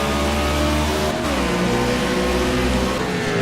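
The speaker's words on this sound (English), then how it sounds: "He's actually probably sounds like he's only in first right now, and now shifts into second." A race car engine roars loudly and steadily on the Dover track, its pitch climbing in first gear before a gear change near the one-second mark drops it into second, then rising again.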